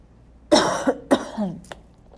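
A few close, sharp coughs in quick succession, followed by a faint throat sound, with quiet background otherwise.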